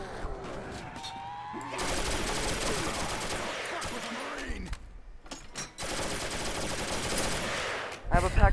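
Rapid automatic gunfire from an upgraded Pack-a-Punch weapon in Call of Duty Zombies, sustained bursts with a short pause in the middle, loud and close, with game sounds around it.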